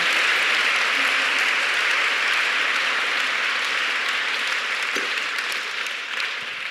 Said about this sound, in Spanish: Un aplauso para el Señor en esta hora.